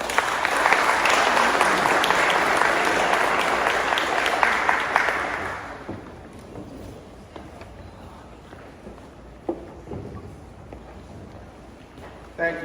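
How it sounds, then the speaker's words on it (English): Warm applause from an audience for speaker Larry Bohn at a talk on Methodism in Carroll County, a steady crowd clapping for about six seconds before fading into room noise and faint movement. "can we please give Larry a warm round of applause?"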